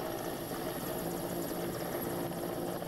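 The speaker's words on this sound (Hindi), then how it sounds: "इस तरह से हेलीकॉप्टर से युवक का रेस्क्यू किया गया" A rescue helicopter holds a loud, steady rotor and engine roar at close range, unbroken throughout, with no voices over it.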